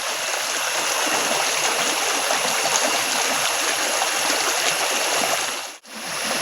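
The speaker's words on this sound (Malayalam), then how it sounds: "വെള്ളത്തിൻ്റെ നല്ല കളകള ആരവം നമുക്ക് കേൾക്കാം." A small, cold forest stream near a chola waterfall, running fuller after rain, gives a steady, close rushing and babbling that barely wavers, apart from one brief dip near the end.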